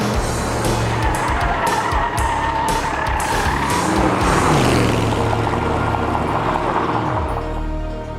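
A race car at the Panoz Racing School at Sebring is driven hard on the track, its engine roaring loud and near as the tires squeal and skid through the corners.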